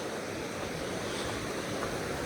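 A mountain river rushes beside Beding village on the trek toward Tsho Rolpa Lake, a loud, dense, unbroken roar of flowing water close by.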